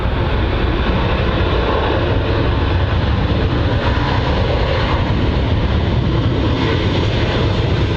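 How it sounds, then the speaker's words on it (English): A Ryanair airliner landing at Manchester Airport, heard as a loud, continuous broadband roar of engines and rushing air, steady and close for the whole stretch with no talking. "Really smooth touchdown from the Ryanair."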